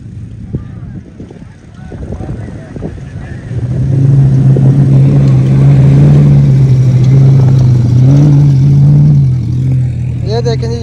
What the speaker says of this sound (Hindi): गाड़ी आ गई जी फिनिश पे